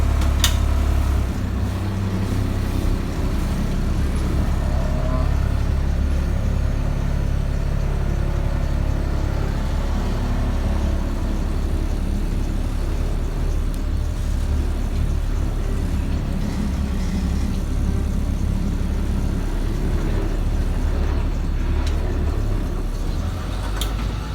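An old bus with rear air suspension being driven to a parking lot: a steady, rumbling low engine drone from inside the vehicle, continuous throughout with road noise and no talking.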